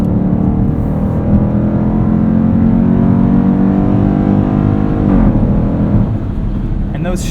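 A 2020 Dodge Durango SRT engine pulling hard under acceleration, a loud sustained drone rising in pitch with a clear gear shift near the end, heard from inside the cabin under a voice.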